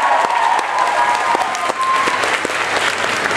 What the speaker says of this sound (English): round of applause for Tron Garn.